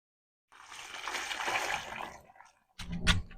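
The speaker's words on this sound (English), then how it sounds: "So now all I have to do is add some water." Water poured from a jug into dry post hole concrete mix, about a gallon for a 50-pound bag, gives a close, steady splashing and gurgling for about two seconds, then a short pause and a louder, heavier splash.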